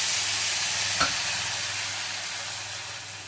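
Pitha batter poured into hot oil frying with a steady, close sizzle, one brief soft splash near the start, then continuous crackling bubbling.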